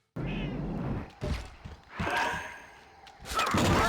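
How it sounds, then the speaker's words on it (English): A giant space cat in the video game Star Wars Bounty Hunter lets out close, loud snarls and yowling growls in several bursts, separated by brief pauses and thuds. "if I don't get jumped by a giant kitty who doesn't care to let me get up"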